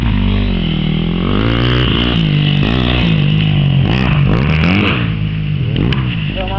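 A motorcycle skids while its engine revs hard and loud throughout, the pitch rising and falling with scraping, clattering noises mixed in, heard close without talk.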